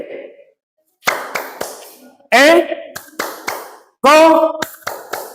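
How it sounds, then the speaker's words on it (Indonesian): A classroom teacher claps hands in sharp pairs of loud, close claps, with a voice speaking between the claps. "saya tepuk tangan 2 kali."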